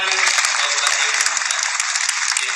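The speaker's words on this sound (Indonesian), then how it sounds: "Luar biasa, tepuk tangan" Loud, dense audience applause at an Amazing Muharram event, a continuous wash of many hands close by for the whole stretch, with no speech over it.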